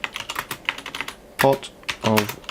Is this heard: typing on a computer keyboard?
yes